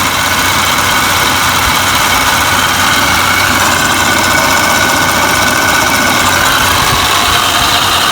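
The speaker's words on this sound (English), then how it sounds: "Clutch is on now, compressor's working." A Toyota Camry V6 3.0L idles with its A/C compressor clutch engaged, a loud, steady engine drone with constant low rumble and hiss, heard up close under the open hood without voices.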